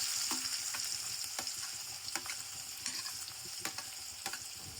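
Onions hitting hot oil with mustard seeds, bay leaf, chilli, cloves and peppercorns for masala rice, a loud continuous sizzle with repeated spoon clinks as they are stirred in the pan.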